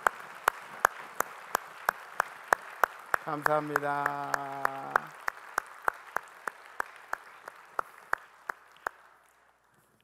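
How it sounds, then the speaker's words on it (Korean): A church congregation claps in a steady, rhythmic beat, sharp even claps running for about nine seconds while someone speaks briefly over them before they fade out. "전달하실 때 우리 박수하시겠습니다."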